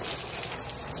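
Water from a garden hose gushes and splashes steadily at close range in a backyard, a dense continuous spray for about a second with no voices.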